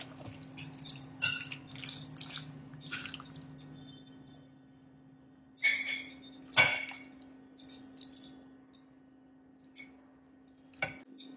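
Mango pickle is spooned into an airtight jar, with a few wet clinks and scrapes of a spoon against the jar, close and soft, in short clusters separated by quiet stretches over a low steady hum.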